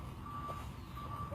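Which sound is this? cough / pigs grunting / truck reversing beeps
truck reversing beeps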